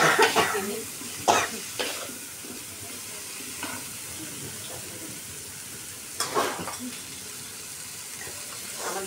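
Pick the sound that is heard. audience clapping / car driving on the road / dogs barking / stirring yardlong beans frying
stirring yardlong beans frying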